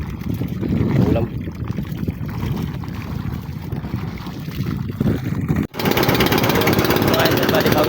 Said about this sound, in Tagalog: Yung palyado po yung makina natin.